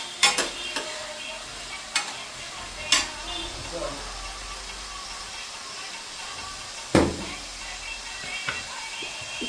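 Curry leaves frying and being stirred in a pan, a low steady sizzle broken by a few sharp spatula knocks against the pan, with a voice briefly audible.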